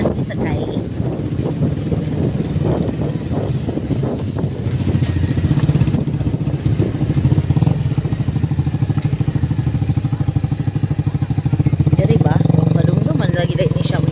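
A motorcycle engine runs steadily at close range, a loud continuous drone with wind buffeting the microphone and people talking over it.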